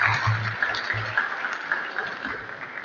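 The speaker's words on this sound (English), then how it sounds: "can we give Honorable Chimbaga Mwiri another round of applause?" An audience applauds at a Patriotic Front political rally in 2021, a steady, moderately loud wash of clapping that holds evenly for about three seconds with a faint low hum underneath.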